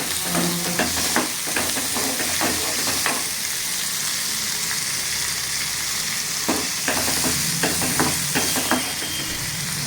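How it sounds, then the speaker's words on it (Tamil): Adamant creeper (pirandai) sautés in a pan, a loud steady sizzle close by, broken by repeated scraping strokes of a spoon stirring in clusters at the start and near the end, with no one talking. "பிரண்டையை வதக்கிடலாம் வதக்கணும் இது நல்லா வதக்கணும்"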